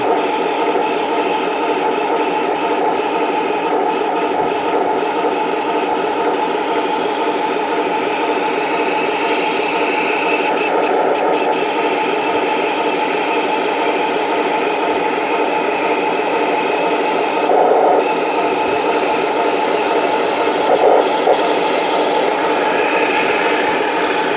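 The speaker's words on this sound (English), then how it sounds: "are the brass gearboxes. They've got excellent low speed control." A model Panzer III tank's brass gearbox runs with a steady, even whir and hum at close range, holding a constant pitch with no talk over it.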